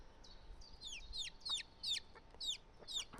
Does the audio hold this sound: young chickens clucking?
yes